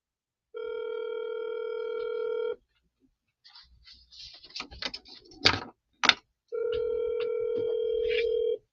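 A telephone call rings out with long steady electronic ring tones, two clear bursts separated by a few seconds of faint clicks, knocks and handling noise between them, close and fairly loud with no talking.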